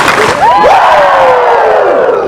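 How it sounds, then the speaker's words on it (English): A large kickoff crowd roars together in one loud sustained shout that swells and trails off, a rising collective woo sung like a wrestler's signature cry. "Give me 2 claps and a Ric Flair."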